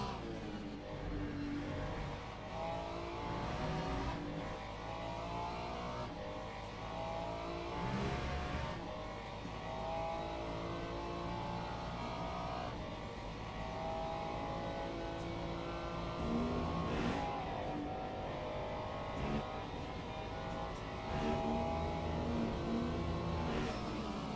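A race car engine in a racing video game at the Paul Ricard circuit, revving hard and dropping through downshifts, loud and steady with no gaps, with no voice over the engine.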